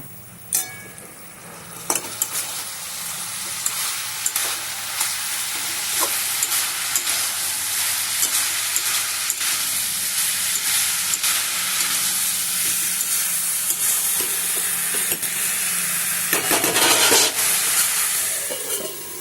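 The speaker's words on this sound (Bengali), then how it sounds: "আদাটা লঙ্কাটা ভালো করে মিশিয়ে নেব" Potato and cauliflower frying with ginger and chilli paste, a steady loud sizzle with scraping stir strokes throughout, a brief louder hiss near the end.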